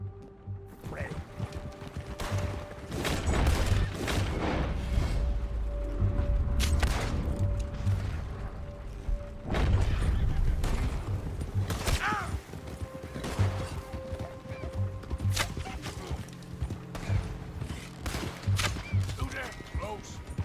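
Gunfire and loud impacts sound during a Red Dead Redemption 2 shootout against United States Army men, with booms and cracks scattered over continuous game noise, horses and machinery, while voices talk throughout.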